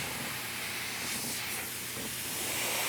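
A wet clear coat is sprayed onto a quarter-scale Spider-Man sculpture, giving a steady, close, continuous hiss that holds evenly for a few seconds with no talking.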